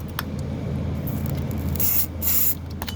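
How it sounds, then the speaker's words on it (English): Multi-purpose adhesive spray hissing from an aerosol can, a close, steady spray lasting a few seconds with brief surges and no voices. "I want to spray some of that. Multi-purpose adhesive spray."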